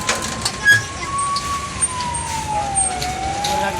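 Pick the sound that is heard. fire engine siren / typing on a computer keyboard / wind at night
fire engine siren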